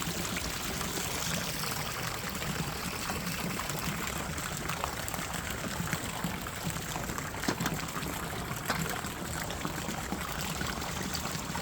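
Water pours and trickles steadily into a hose held at a swimming pool return, a continuous faint splashing hiss with occasional small gurgles, no talking.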